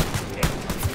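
Shotgun blasts from a first-person shooter, Wolfenstein: Youngblood, fired through material: a loud, close, dense burst of gunfire with several sharp impacts packed into about a second.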